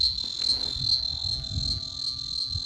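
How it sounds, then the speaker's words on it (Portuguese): Cicadas sing at an abandoned house, a shrill continuous high buzz carrying steadily over faint low rustling and background noise. "o Cântico da Cigarra"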